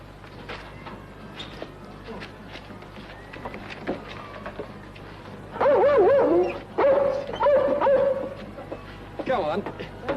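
A dog whimpers and yips in high, wavering whines mixed with short barks, growing louder midway through, while people talk nearby.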